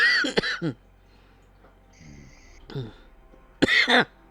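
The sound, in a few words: coughing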